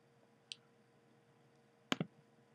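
Two sharp mouse clicks on a computer, one single click then a quick double click about a second and a half later, close and crisp in a quiet room.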